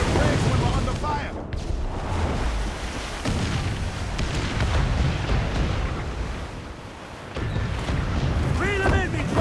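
Ship cannons fire in a naval battle in Assassin's Creed 4 Black Flag, heavy booms and rumbling blasts filling the scene alongside crashing noise, with shouted voices over the top.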